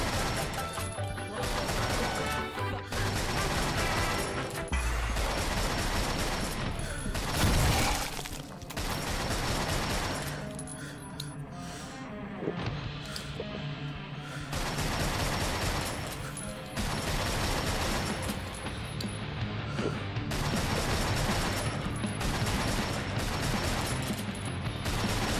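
Dense bursts of gunfire and crashing impacts from the VR game Drunk Or Dead 2, rapid repeated shots in clustered volleys with short pauses, loud and close throughout.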